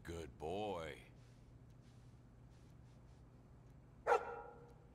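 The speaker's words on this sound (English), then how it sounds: "You can pet the dog." A dog in a video game gives a single short bark near the end, after an earlier whining yelp, over a quiet low background hum.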